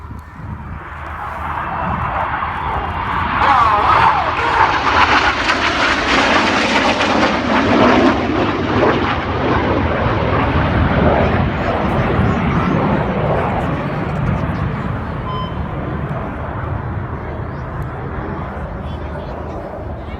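RAF Red Arrows jets flying the Crossbow manoeuvre of double rolls and inverted flight at the Midlands Airfestival 2022, a loud sustained jet roar that swells and slowly fades as the formation leaves the display area.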